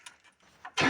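A 1978 Dodge D-200 truck engine, previously locked up and running low on gas, gives a few faint cranking clicks and then catches into a loud, sudden roar at the end.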